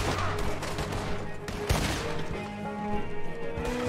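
Gunshots in Red Dead Redemption 2, dense overlapping bangs and crackling reports in a busy firefight, one sharp crack standing out midway.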